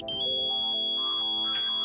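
A satellite dish alignment meter gives a steady, high electronic tone that holds continuously and clearly for under two seconds, with a softer humming layer beneath it.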